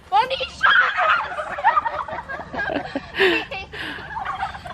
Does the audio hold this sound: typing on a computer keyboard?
no